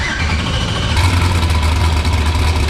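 Twisted T's car engine runs loud and close, holding a steady rumble that rises in intensity partway through, with no talking.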